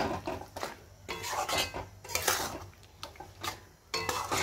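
Amla (Indian gooseberry) pickle is stirred in a pan, the spoon scraping and knocking against the metal in an uneven rhythm of repeated strokes, close and fairly quiet.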